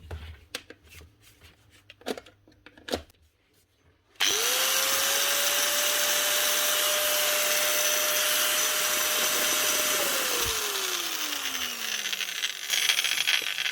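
A repaired Wurth angle grinder fitted with a Bosch switch starts after some handling clatter, spins up into a loud, steady high whine for several seconds, then is switched off and winds down.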